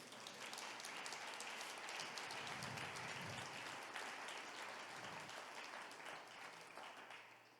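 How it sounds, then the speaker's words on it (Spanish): Church congregation claps in praise, a full and continuous wash of applause that holds steady and tapers slightly toward the end. "Dale un aplauso al Señor."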